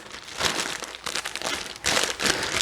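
A plastic zip bag holding oil-coated chicken drumsticks crinkles and crackles in steady close bursts as it is handled, with a short pause in the middle.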